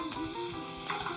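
Potatoes, garlic and onions fry in olive oil in a pan, giving a steady close sizzle with a brief stirring scrape near the end and no voices.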